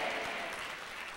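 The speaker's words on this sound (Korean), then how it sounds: "저는 태어나서 오늘 저녁만큼 박수 많이 받아온 것은 생전 처음입니다" A church congregation applauding: dense, steady clapping from many hands sustained throughout, fairly soft and even with no pauses or voices over it.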